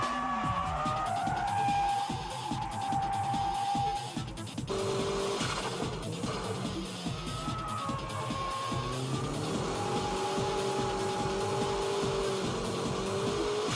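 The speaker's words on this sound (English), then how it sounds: "You can see he's controlling the drift without opening the gas all the way." A car drifting through a turn, driven by Keiichi Tsuchiya, with loud sustained tire squeal and engine drone rising and falling, near and continuous across the whole stretch.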